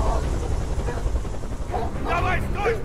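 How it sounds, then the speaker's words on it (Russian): A helicopter in the video game Beyond Two Souls drones steadily in the low end throughout, with a voice speaking briefly over it near the end. "Вертолет!"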